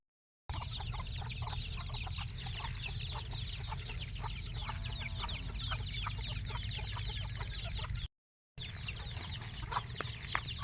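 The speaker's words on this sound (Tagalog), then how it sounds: "ang dami niyang manok mga kadugo" Many chickens on a farm in the Philippines cluck and chatter together in a steady busy chorus, with a brief break near the end before the flock noise resumes.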